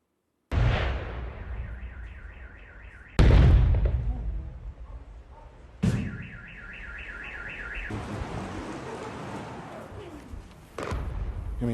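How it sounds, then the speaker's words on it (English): Heavy blasts from strikes on the Irpin suburb boom out several times, each a sudden loud thud with a rumbling tail, while a car alarm wails in the distance between them. "Those explosions rocking the town"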